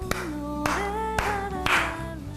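Four sharp, evenly spaced hand claps ring out over a sustained musical tone, fairly close and clear, with no talking.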